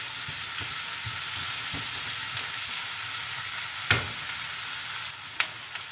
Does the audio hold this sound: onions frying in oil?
yes